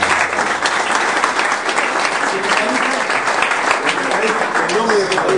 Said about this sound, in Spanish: Por eso pido un fuerte aplauso a Fórmula Perfecta.